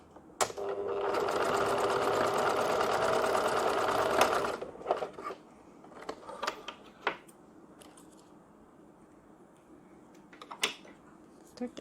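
A sewing machine stitches the sides of a fabric school pouch in one steady run of about four seconds, close by. Afterward come scattered handling clicks and taps and faint talk.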